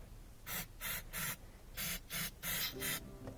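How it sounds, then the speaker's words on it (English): Mass airflow sensor cleaner is sprayed into a GMC Yukon sensor in seven short, hissing aerosol bursts in quick succession, close and clear. "Just going to spray in here a little bit."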